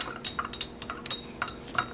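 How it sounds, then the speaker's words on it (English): Metal spoon clinking and scraping against a bowl while witch hazel and menthol crystals are stirred together, a quick run of light, close clinks and taps with no talking. "Now I'm going to add the witch hazel, and then I'm gonna mix this here until it dissolves"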